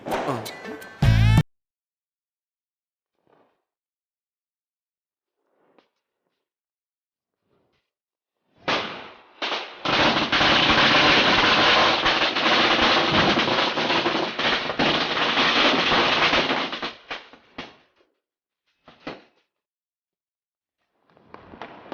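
Firecrackers going off: a sharp burst at the very start, then a quiet gap, then a long, loud, dense run of crackling lasting about eight seconds, trailing off into a few scattered pops.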